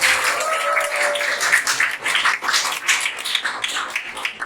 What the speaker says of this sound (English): Give another round of applause for Patriciar.